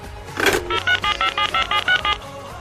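A rapid string of about ten telephone dialing tones beeps out in quick even succession, each short and clear, close and alone with no talking over them.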